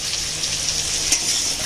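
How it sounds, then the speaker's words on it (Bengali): Carrots frying in a pan, a steady bright sizzle with a faint spatter pop partway through, close and continuous with no voices. "প্রথমে গাজরটা দেব, দিয়ে খানিকটা ভাজা হলে, গাজরটা একটু নরম হলে"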